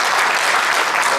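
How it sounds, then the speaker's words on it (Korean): Sustained applause from a lecture audience after a talk, dense steady clapping throughout without pause. "우리 아침부터 공부하게 되신 우리 소영수 이사장님께 다시 한번 큰 박수를 부탁드리겠습니다"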